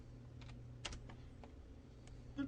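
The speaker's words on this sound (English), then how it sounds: "typing in the frame number that I want this mouth to be on" Keys tapped on a computer keyboard to enter numbers, a sparse series of soft, quiet clicks at an irregular pace over a low background hum, with no talking.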